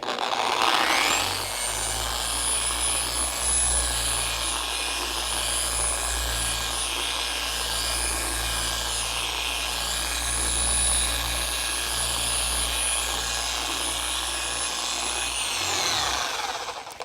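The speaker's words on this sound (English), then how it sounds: "Now I'm gonna take my machine on, speed setting 1, and I'm just gonna spread out the polish." A dual action polisher runs at speed setting 1 while spreading polish, a steady close whirring hum with a faint high whine that starts up, holds evenly for about fifteen seconds and then winds down.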